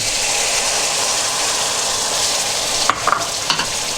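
Chopped large tomatoes fry in a hot pan while being stirred: a dense, steady sizzle throughout, with a few scraping stir strokes near the end.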